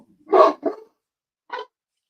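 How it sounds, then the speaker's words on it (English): Dog barking indoors: two quick close barks followed by a single shorter bark after a pause, loud against otherwise silent surroundings. "Sorry about my dog."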